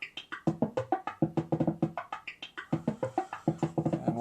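Buchla MARF synthesizer running a random sequence, a quick train of short plucked tones at a mostly even pulse with pitches jumping around and a small stumble in the rhythm partway through, close and clear.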